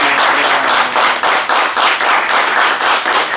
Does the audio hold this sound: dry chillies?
no